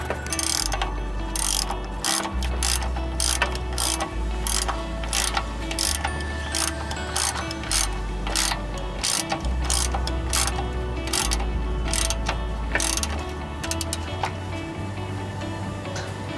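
Ratchet clicking rapidly in bursts while tightening a bolt on the front wheel hub assembly of a 2001 Ford Ranger V6, crisp close metallic ticks repeating over a low droning hum, with no speech.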